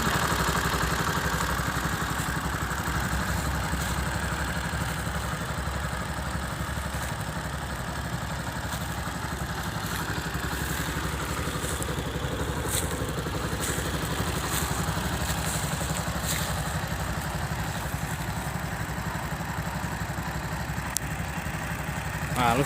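A 2011 Viar Karya 200cc radiator-cooled motorcycle idles steadily at close range, its exhaust leaking slightly, giving an even, continuous engine chug with light mechanical clatter throughout.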